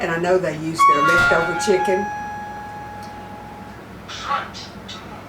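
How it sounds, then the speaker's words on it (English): A person talks while a home alarm system's door-open chime sounds a couple of clear electronic tones partway through, followed by a faint bright ding near the end. "That's my alarm system. And when one of the doors is open,"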